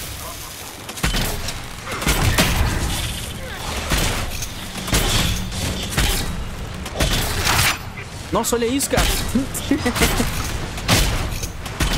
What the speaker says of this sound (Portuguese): As bombinhas voaram tudo pra longe.